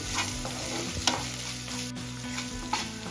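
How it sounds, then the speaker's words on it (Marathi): Ginger garlic paste being stirred and sautéed with onions in a pan, a steady close sizzle with scraping spoon strokes and a couple of sharper clinks, for a chicken bun stuffing. "आता आपल्याला अद्रक लसूणची पेस्ट छान परतून घ्यायची आहे"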